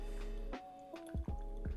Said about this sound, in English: I'm gonna pour kind of slow because it is passing through fast